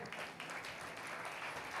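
A church congregation at a Filipino worship service claps together, giving a soft, continuous patter that sounds distant and faint throughout.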